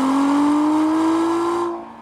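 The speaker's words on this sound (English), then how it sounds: "I actually love the way the Fab Speed sounds on this car. It makes it sound deeper. You can hear the turbos more." A 2017 Acura NSX with Fab Speed exhaust and downpipes holds a loud, steady high rev with a deep tone and turbo whine, then drops off sharply near the end.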